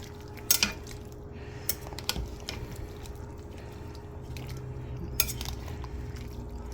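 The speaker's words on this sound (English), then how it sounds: "we'll give that a good stir" Spoon stirring a pot of green beans and potatoes cooked with salt pork, scattered metallic scrapes and knocks against the pot with soft wet squelches, close up.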